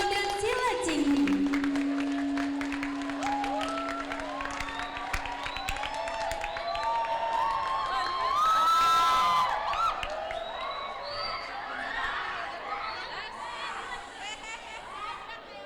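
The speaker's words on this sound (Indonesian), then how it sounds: "Boleh kita berikan tepuk tangan yang meriah kepada tim Hadro dan Sila Cingkrik" A school graduation farewell audience claps and cheers, with chattering, whoops and scattered shouts from the crowd that rise and fade around a held tone, under an announcer's voice.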